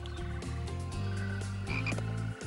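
A small frog in an animated children's detective series croaks in a steady run of repeated, close, resonant calls, with no voices over them.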